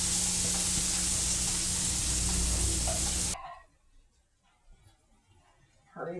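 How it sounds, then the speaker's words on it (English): Onions sautéing in butter in a cast iron pan hiss with a loud, steady sizzle for about three seconds, then stop abruptly into near quiet broken by faint clatter. "I'm going to put my onions in there. And we're going to saute those until they're soft."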